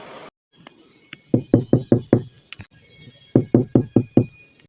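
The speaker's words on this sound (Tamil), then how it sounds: "யார் இது இந்த நேரத்துல கதவு தட்டுறது?" Someone knocks on a house door at an odd hour: two quick bursts of four or five sharp raps each, close and clear, with a short pause between and faint background tones.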